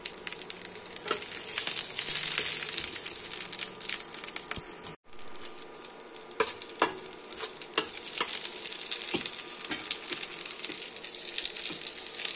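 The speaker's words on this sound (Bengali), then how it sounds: "এবার এই ফোড়নটাকে একটুখানি ভেজে নেবো।" Five-spice mix, bay leaves, a slit green chilli and a slit dried red chilli fry in hot oil with a steady loud sizzle. The spatula stirs and scrapes throughout, with a brief pause near the middle.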